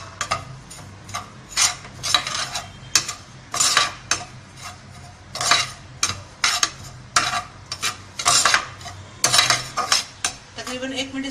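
Grated coconut roasts in about a spoonful of ghee while a spoon scrapes and clinks against the pan in irregular bursts, with a soft sizzle underneath.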